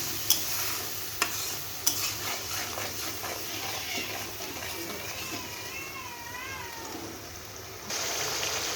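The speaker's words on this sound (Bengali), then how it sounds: "লবণ দিয়ে দিলাম, হলুদ দিয়ে এবার কষিয়ে নেব মশলাটা।" A masala seasoned with salt and turmeric is stir-fried in a pan, giving a moderate steady sizzle with a few sharp knocks of a utensil early on and a faint squeaky, meow-like cry partway through.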